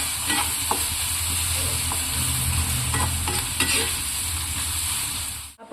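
Onion and green chillies fry in hot oil for Kerala-style ginger pickle, a steady close sizzle with scraping stir strokes throughout, cutting off abruptly at the end.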